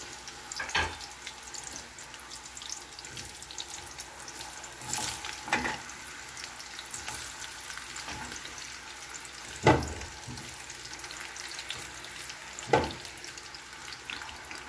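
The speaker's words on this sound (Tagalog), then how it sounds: "ayan na yung ating kamote. Piprituhin na lang po natin para maluto na." Sweet potato (kamote) slices fry in oil with a soft, steady sizzle, broken by a few sharper crackles and clatters as pieces are added or stirred.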